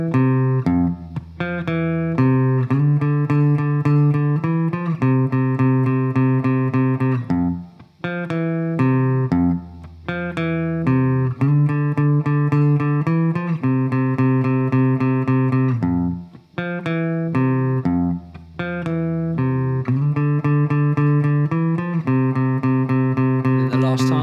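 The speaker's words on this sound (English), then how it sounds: "So I'm going to play the bridge section as it would be on the record all the way through." Guitar plays the bridge of a song start to finish, loud sustained chords changing in a steady pattern with brief gaps between phrases, no talking.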